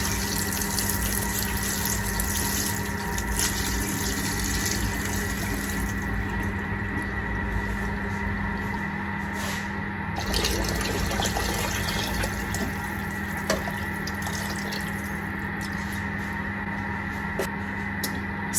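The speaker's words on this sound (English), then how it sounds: "And then next I'm just adding in filtered water." Filtered water runs steadily into a large stockpot holding chicken bones and apple cider vinegar for broth, a continuous close pouring rush with a faint pump-like hum that lasts throughout.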